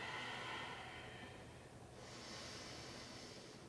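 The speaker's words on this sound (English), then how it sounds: "Deeper inhales and exhales." Slow, deep breathing during a yoga flow, a long exhale easing off and a fresh inhale swelling in, airy and close with no talking.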